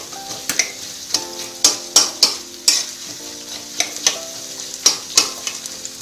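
Onions frying in hot oil in a pan, a continuous crackling sizzle punctuated by regular sharp clicks of a spoon stirring against the metal, close and moderately loud, no voices.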